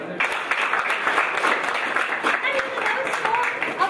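A crowd claps at an urban hackathon event in Hyderabad, with steady applause filling the room while a voice speaks over it.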